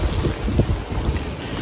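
Wind gusts rush and buffet the microphone in cold weather while snow falls, a steady low roar with brief louder puffs, and no one speaks.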